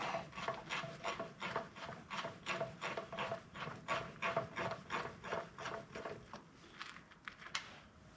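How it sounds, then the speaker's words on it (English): Bolts coming out of the oil pan of a 1928 Allis Chalmers 20-35 tractor: a close, quiet run of rhythmic ratcheting clicks at a steady quick pace, easing off near the end, with no voices. "let's see if we can take these bolts out"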